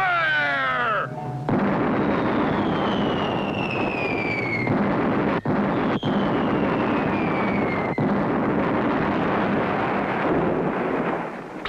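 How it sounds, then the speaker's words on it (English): Cartoon cannon fire and explosions from a 1959 pirate-island adventure: a continuous rumbling barrage of booms with sharp cracks and falling whistles layered over dramatic music. "Clutch and Company hit with cannon fire."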